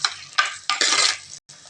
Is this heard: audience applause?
no